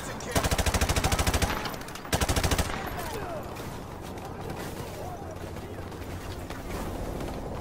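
Video game gunfire: two bursts of rapid automatic machine-gun fire early on, loud and rhythmic, followed by a lower rumbling battle din with shouting voices.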